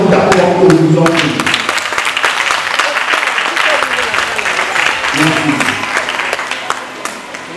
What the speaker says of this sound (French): Je vous invite à faire un tonnerre d'acclamation